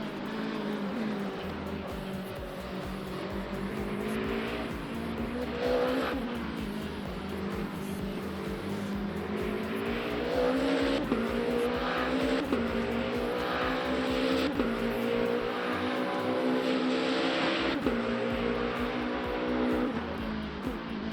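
Race car engine in the sim racing game Le Mans Ultimate, a loud continuous roar that rises and falls through gear shifts, steady and close throughout with no talking.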